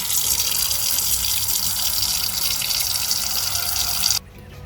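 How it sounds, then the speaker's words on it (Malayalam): A steady, loud stream of water is poured over raw chicken pieces for grilled chicken, running close and continuously with no talking, then stopping abruptly just before the end. "ചിക്കൻ പീസ് ഇട്ടിട്ട് അതിലേക്ക് നമ്മൾ കുറച്ച് വെള്ളം ഒഴിച്ചു കൊടുക്കുക."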